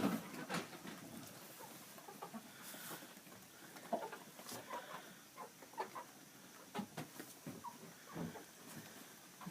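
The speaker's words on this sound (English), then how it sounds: "here's some of the chickens." Chickens in a coop cluck softly and intermittently, short scattered calls at low volume against a quiet background, with no talking.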